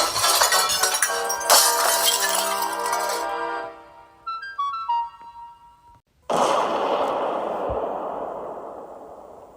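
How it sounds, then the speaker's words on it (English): A toy train engine smashes into a police station, sending out a loud crash of shattering glass that tinkles away into falling shards, then a second burst of harsh breaking debris. "Donald and Douglas had smashed into a police station, shattering glass and debris everywhere"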